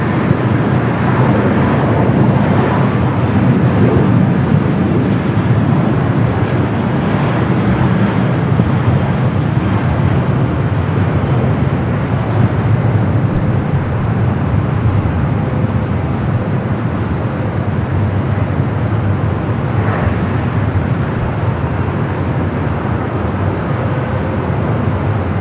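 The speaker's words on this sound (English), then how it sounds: "Air Tahiti Nui, Flight 102. The flight coming from Papeete, 787-9 Dreamliner." An Air Tahiti Nui Boeing 787-9 Dreamliner arriving from Papeete at Los Angeles airport, heard as a loud, steady broadband jet roar with a deep rumble that holds throughout, no voices over it.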